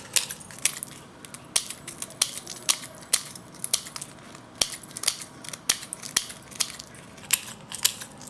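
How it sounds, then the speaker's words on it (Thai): Kitchen scissors snip through chili peppers in close, crisp cuts, about a dozen sharp clicks at an uneven pace over a quiet background, with no talking. "พริกก็นำมาตัดก่อนนะคะทุกคน ตัดเอาเม็ดออกเนาะ"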